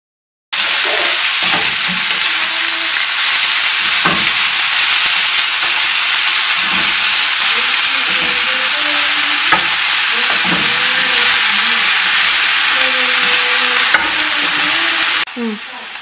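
Fresh coriander leaves sizzle and crackle steadily in a hot pan of oil for a relish, with a spoon scraping and stirring through them at intervals; the frying stays loud and close throughout, with no talk.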